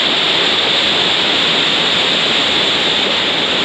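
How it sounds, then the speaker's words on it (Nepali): Water rushes through a water-driven grain mill beside a mountain road in Nepal's Mustang region, making a loud, steady, unbroken roar close by. "घट्टा रहेछ पानीले घुम्छ अनि हुन्छ"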